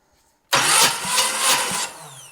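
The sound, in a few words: 1976 Camaro engine cranking during compression test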